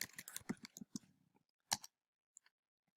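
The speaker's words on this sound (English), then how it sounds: "let's go ahead and type gun control" Quick bursts of clicking keystrokes on a computer keyboard typing a short search phrase, a rapid cluster then a pause and a few final taps, close and fairly quiet.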